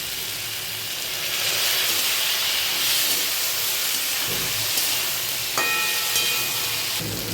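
Water poured into frying masala in a pan for a pointed-gourd curry sets off a steady, loud steam hiss that swells and holds throughout, close up with a few faint clinks.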